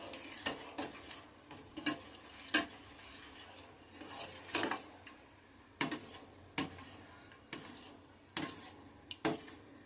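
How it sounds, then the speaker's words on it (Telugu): Jaggery syrup (bellam charu) flavoured with cardamom powder is stirred in a pot with a spoon, giving a series of sharp scraping clinks at an irregular rhythm, close and fairly quiet, with no talking. "ఒకసారి కలిపేసుకుందాం."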